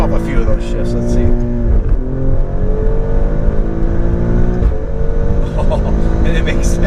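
A 2020 Alfa Romeo Stelvio Quadrifoglio accelerates hard, its engine climbing steadily in pitch and dropping at two quick gear shifts. The loud, continuous engine roar runs throughout.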